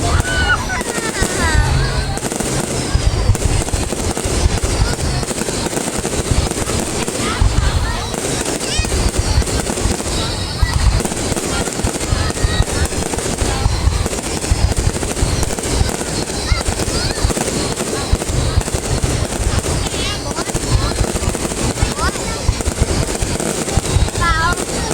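Continuous barrage of New Year 2020 fireworks in Yên Phong, Bắc Ninh, Vietnam, dense crackling bursts and booming pops throughout, with people chatting nearby.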